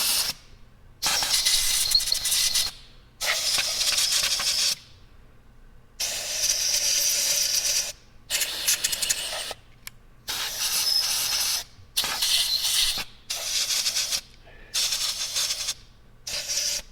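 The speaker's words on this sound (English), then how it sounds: "take some compressed air" Repeated bursts of compressed air spraying into holes on a 1954 Matchless G9B motorcycle, about eight short hissing blasts of a second or two each, separated by brief pauses, close and loud with no talking.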